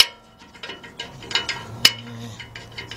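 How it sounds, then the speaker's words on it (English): A 13 millimeter wrench works a bolt under a 2005 Nissan Pathfinder 4.0, giving a run of quiet ratcheting clicks and small metallic taps, close and fairly faint. "I got me a 13 millimeter wrench"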